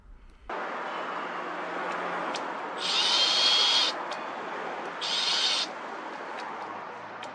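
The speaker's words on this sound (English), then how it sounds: "I've got to use this beast, which is a 70mm hole drill bit," A power drill with a 70mm hole saw bit runs steadily with a broad grinding whir, rising into two louder, higher-pitched bursts of cutting a few seconds apart, while cutting through a motorhome.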